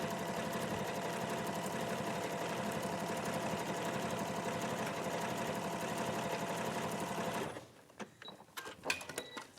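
A sewing machine stitches decorative stitches in a steady, even whir that holds for about seven and a half seconds before stopping, followed by a few faint handling clicks and no talk.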